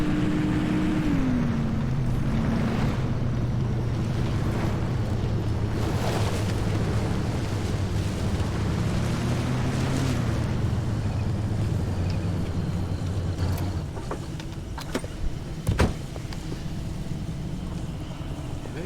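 Car driving in the video game Pacific Drive with its door left open, a steady low engine drone whose pitch shifts as it accelerates, mixed with wind-like rushing, then the engine cuts out leaving a few sharp knocks.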